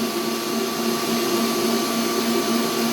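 Steady whirring drone of an electric mixer beating cheesecake filling for a frozen caramel cheesecake, loud, continuous and unchanging, with no talking.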